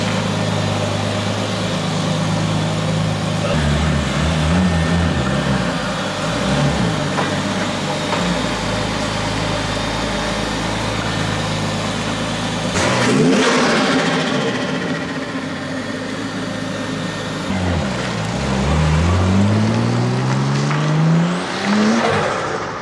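An RB25-swapped Nissan 240SX engine runs steadily for the whole stretch, its hum rising and falling with revs, a turbo whoosh and whistle on top and no voices.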